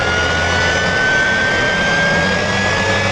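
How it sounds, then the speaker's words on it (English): Bladed turbojet engine at high RPM, a loud steady roar with a sustained high-pitched whine holding constant throughout, close and alone without voices. "Think about the iconic high-pitched whine of a bladed turbojet when the rotors are spinning at high RPM."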